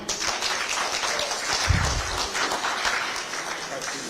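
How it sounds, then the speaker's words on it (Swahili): A press briefing crowd of media and attendees claps in a short burst of applause, a dense patter of hands near the room mixed with faint chatter. "Please, the media, tupige makofi."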